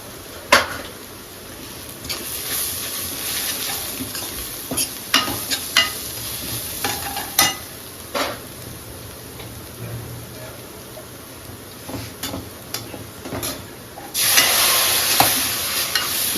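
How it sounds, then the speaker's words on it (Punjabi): Spice masala of red chilli, deggi mirch, turmeric, garam masala and kitchen king masala roasting in a pan for kofta curry, with steady sizzling broken by scattered scrapes and taps of a stirring spoon, building to a louder hiss near the end. "ਸਾਡਾ ਤੇ ਮਸਾਲਾ ਵੀ ਭੁੱਜ ਜਾਏਗਾ"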